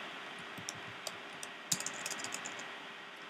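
Typing on a computer keyboard while setting up a Raspberry Pi for home automation, with light, scattered key taps over about three seconds against a steady hum, and no voices.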